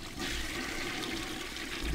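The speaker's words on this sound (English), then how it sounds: "Flush the toilet." A toilet flushes in the horror video game Death Flush, a steady rushing of water that fills the whole two seconds, close and continuous with no talking.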